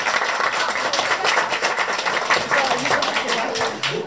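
An audience claps steadily for a Radio Lublin editor at a regional culinary competition finale. The dense applause runs without pause and a voice is heard faintly within it.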